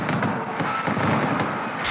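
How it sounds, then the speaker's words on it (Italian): Dense, continuous crackle and booming of fireworks exploding over a cathedral square during a night religious procession, loud and sustained with overlapping bursts and a crowd roar beneath. "salutata da un tripudio di applausi e fuochi d'artificio"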